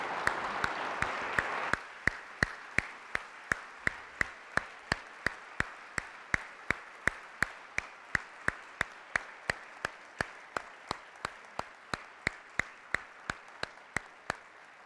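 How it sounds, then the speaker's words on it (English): An audience applauds after a talk on the hidden roots of white supremacy, a short burst of broad clapping that turns into steady, evenly spaced rhythmic claps for the rest of the clip. "And let's give a round of applause."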